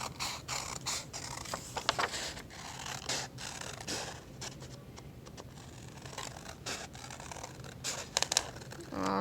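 Scissors cutting paper during an art class making a pumpkin picture, a series of close, quiet snips and crisp paper rustles with brief pauses between cuts.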